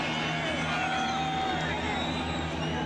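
A large crowd at a 1989 Bengals at Bears football game at the stadium roars steadily to help the defense, a continuous wash of noise with a commentator talking over it.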